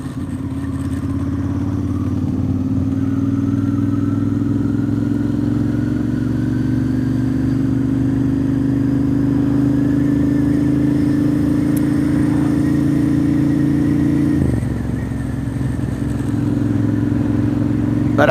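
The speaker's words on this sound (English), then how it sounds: "I am on a Ducati Monster" A Ducati Monster motorcycle engine drones steadily and close while riding, a sustained mid-pitched hum with a brief dip in revs partway through before it picks back up.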